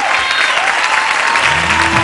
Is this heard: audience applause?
yes